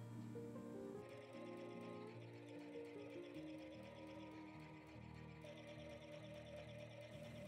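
A sewing machine stitches a quilted fabric shoulder bag with a loud, continuous mechanical hum and a rapid needle rhythm, steady and close, with a slight change in pitch after the first second.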